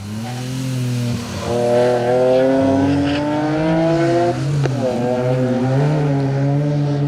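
A BMW rally car's engine roars close by on a rally stage, revving and shifting gears as it passes, its pitch rising then dropping away.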